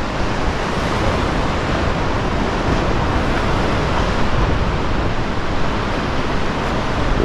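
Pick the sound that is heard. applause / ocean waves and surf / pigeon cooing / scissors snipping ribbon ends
ocean waves and surf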